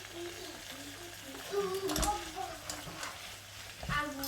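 Chicken with fresh coriander stirred in a pan, soft sizzling under a speaking voice, with scattered clinks and scrapes of the spoon, close but fairly quiet.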